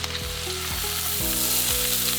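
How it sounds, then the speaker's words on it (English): Bacon and onions sear in an Emeril Lagasse Forever non-stick pan, a loud, steady close-up sizzle with no talking, broken by a few brief clicks of stirring. "can hear that sear"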